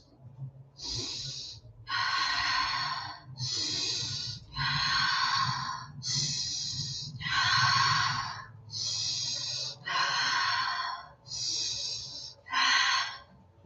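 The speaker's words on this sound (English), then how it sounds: "take 5 deep, long breaths" Slow, deep breathing for relaxation: about ten long breaths in a steady rhythm, each a loud, airy rush close to the microphone, separated by short pauses.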